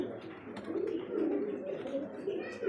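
Domestic pigeon cooing steadily at close range in a home pigeon loft, a low continuous rolling coo lasting throughout with no talk over it.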